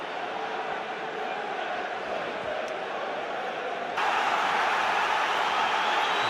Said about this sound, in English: The crowd recognising the Newcastle players need their help again.